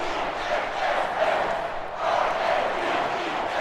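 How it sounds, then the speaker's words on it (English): A home stadium crowd in Madden NFL, Ravens hosting the Dolphins, keeps up a loud, steady roar of applause and cheering that swells slightly near the end. "And the home crowd applauding."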